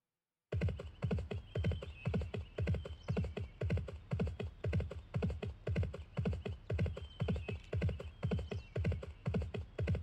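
Horse hooves clip-clop in a steady, fast rhythmic trot in the Barbie Race and Ride video game, continuous and evenly paced throughout with no talk.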